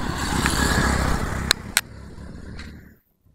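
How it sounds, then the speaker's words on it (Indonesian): A motorcycle passes on a street, a steady broadband engine rumble that holds for about three seconds with a couple of sharp clicks midway, then cuts off to near silence. "Ini ada motor lewat, ya kan?"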